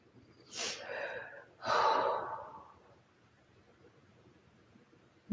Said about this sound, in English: Taking a few recovery breaths.